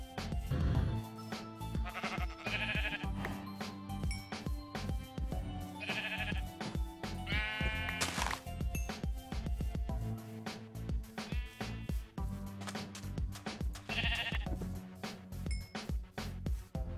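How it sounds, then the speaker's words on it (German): Sheep bleat several times in Minecraft over steady game music, their wavering calls rising above the busy background at intervals. "Ah, Schäfchen."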